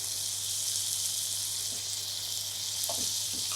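A masala mixture of coriander powder, garam masala and salt sizzles steadily in a pan while it is stirred, giving a constant hissing fry with a few soft scraping strokes near the end.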